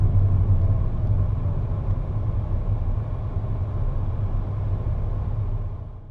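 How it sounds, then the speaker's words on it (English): A manual car engine descending a steep hill in second gear gives a steady low rumble and hum from inside the vehicle, continuous and fairly loud before easing off at the end. "The car speeds up so quickly down this steep hill, brake in and back down to second."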